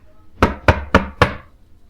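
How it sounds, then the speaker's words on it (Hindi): Someone knocks four times on a door, giving four sharp, evenly spaced raps close by with nothing else around them. "तभी दरवाजे पर फिर से किसी ने दरवाजे को खटखटाया"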